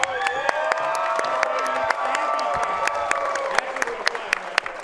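An audience at a Fight For It combat sports event claps and cheers, with sharp scattered hand claps and whoops over a sustained crowd roar, fairly close and loud.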